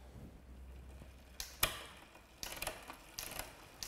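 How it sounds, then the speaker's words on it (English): Bicycle rear derailleur clicking through gears across the cassette after a new rear gear cable is fitted, a series of sharp close mechanical clicks and ratchety bursts spaced about a second apart. "it shifts smoothly across the cassette"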